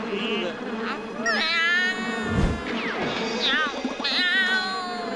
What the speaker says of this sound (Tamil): முதலாளி, என் பூனை.